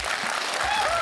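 A studio audience applauds at a televised panel discussion show, dense continuous clapping from a crowd in the room, with a voice briefly audible over it.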